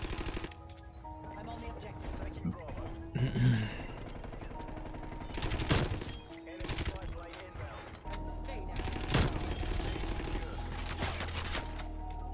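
Teammates fire bursts of gunfire in a multiplayer shooter game, scattered sharp shots and short rattling volleys at moderate distance, with a player talking over parts of it.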